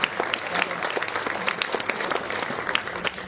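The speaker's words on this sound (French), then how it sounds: "Sous vos applaudissements" Audience applause at the presentation of the Tour Cycliste de Guadeloupe as a representative of Pointe-à-Pitre comes on stage, crisp sustained clapping from a nearby crowd with individual claps standing out, under light background murmur.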